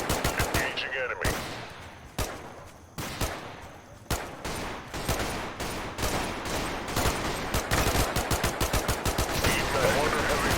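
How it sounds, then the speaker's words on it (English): Heavy gunfire in a modern army squad-based strategy shooter game: rapid machine-gun bursts and single shots crack repeatedly at close range, with an even rhythm of sharp reports and voices talking between them. "Team member under heavy fire."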